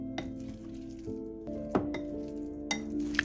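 A spoon stirs a liquid batter mixture with currants and a spoonful of oil in a bowl, making soft wet swirling sounds punctuated by several light clinks against the dish.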